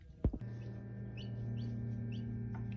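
Baby chicks chirping faintly as they hatch and pip their shells in an incubator, soft high peeps repeating at intervals over a steady machine hum, after a brief knock near the start.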